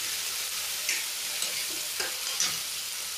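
Onion and garlic paste being stirred into a gram and potato curry in a pan, with a steady low sizzle and a few soft scraping strokes spaced through the clip, no talk.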